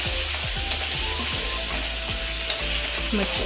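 Chillies fry in hot oil for Schezwan sauce, giving a steady close crackle and sizzle with a run of rhythmic spatula scrapes and taps against the pan.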